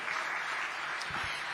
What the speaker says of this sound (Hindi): एक बार जोर से तालियां बजा दीजिए